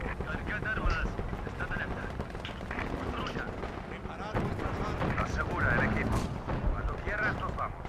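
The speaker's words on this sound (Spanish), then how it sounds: "Aquí hay artillería." Booming artillery fire rolls through a Company of Heroes 2 battle, heavy blasts and gunfire layered densely with a constant din, while players talk over the noise throughout.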